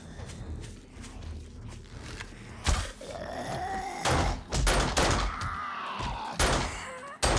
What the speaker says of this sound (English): Hear my gunshot.